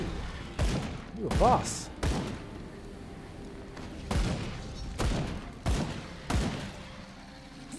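Grenade explosions in the video game Grim Dawn, several punchy thumping blasts in quick succession over a steady game background, with a voice talking briefly.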